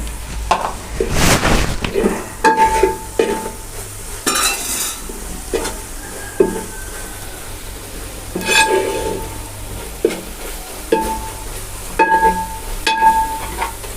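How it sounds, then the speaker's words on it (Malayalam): Tapioca frying in a pan, stirred steadily with a spoon: repeated close scraping strokes and light clinks over a soft sizzle, no voices. "കരിയരുത്, ഇളക്കി കൊടുക്കണം."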